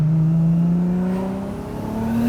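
An RB25-swapped Nissan Laurel sedan with a big single turbo pulls hard at full throttle, its engine note loud, close and climbing steadily in pitch without a shift.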